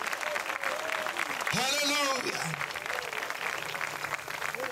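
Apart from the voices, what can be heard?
congregation applauding in church service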